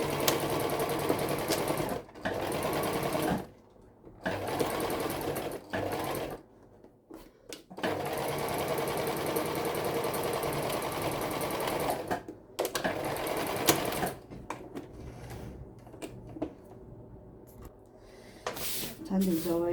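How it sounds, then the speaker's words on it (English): Sewing machine stitching a straight seam on fabric for a Christmas draft excluder, a rapid mechanical whir in bursts of several seconds separated by pauses, with quiet handling sounds between runs. "Just going to stitch it straight at the bottom."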